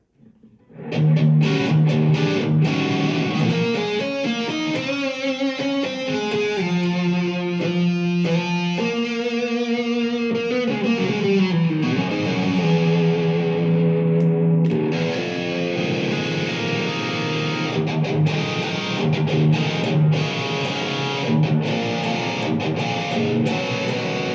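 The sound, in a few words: guitar through Blackstar ID Core Stereo 10 V3 amp with distortion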